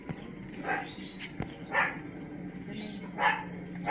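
A dog barks three times at a moderate distance, spaced about a second apart, over faint outdoor background noise.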